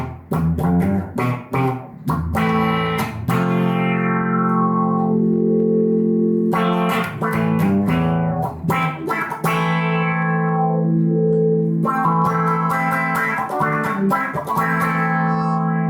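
Electric guitar through the Filtron filter effect on a Vox Valvetronix VT40+ amp, with strummed chords and sweeping, wah-like filtered tones ringing out loud and sustained across several phrases.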